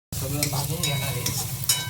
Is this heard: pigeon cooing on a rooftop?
no